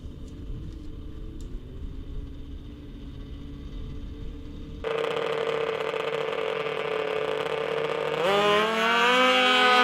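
Racing snowmobile on a 2020 Johnson Racing chassis at the Canadian Power Toboggan Championships, starting a race: a low rumble suddenly jumps into a loud, close engine roar that climbs in pitch as it accelerates, with no talk.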